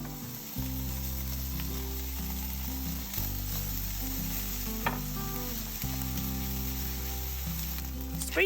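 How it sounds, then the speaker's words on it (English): Onion and bacon frying in a teaspoon of olive oil in a fry pan, giving a steady close sizzle with occasional stirring clicks, alone and without talk. "Put 1 teaspoon of olive oil in a fry pan and fry the onion and the bacon"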